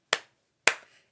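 Two sharp claps from preschool children, about half a second apart, sound close and crisp during a storytime singalong of the Bingo song, where the claps stand in for a dropped letter.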